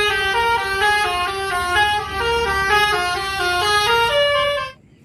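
A toy bus horn plays a repeating electronic honking melody, loud and close, for several seconds before cutting off abruptly.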